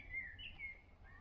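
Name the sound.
blackbird singing in a pine tree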